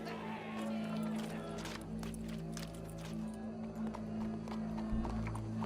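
Horse hooves clip-clop steadily over a constant low hum in the video game Red Dead Redemption 2, the rhythmic beats drawing nearer without other clear sounds.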